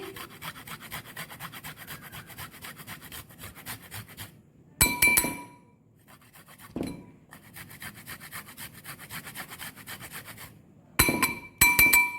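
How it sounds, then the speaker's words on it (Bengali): Ginger grated by hand makes a steady rasping scrape in long even strokes, with short pauses where sharp clinks and knocks of the grater ring out. "কিছুটা আদা আমি গ্রেট করে দিচ্ছি"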